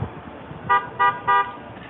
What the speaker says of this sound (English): People just a honking and a road raging in LA.